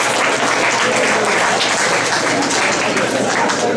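Loud, sustained applause from an audience at a community food talk, a dense steady wash of many hands clapping for the full stretch without a break.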